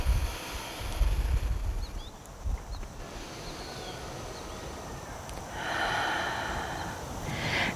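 Slow, deep yoga breathing with a strong, airy exhale near the start and a long, drawn-out breath toward the end, over a quiet background hiss.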